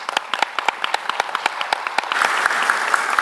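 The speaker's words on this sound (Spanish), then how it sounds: "quisiera por favor pedirles un aplauso para recibirlo" An audience at an industrial forum in Peru claps to welcome a guest. The hand claps start sparse and distinct, then thicken into fuller, louder applause toward the end, with no speech over them.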